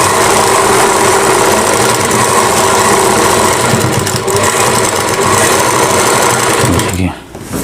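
A domestic sewing machine runs close and loud, stitching the neckline of a Rajputi suit in a steady, rapid mechanical whir that stops abruptly near the end; no one speaks over it.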